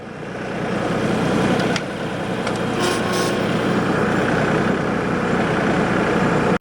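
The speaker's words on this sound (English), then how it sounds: "With my tractor in gear, I am ready to go." A tractor engine runs steadily while driving, a loud, close, continuous low rumble with a brief dip in power partway through and no talking.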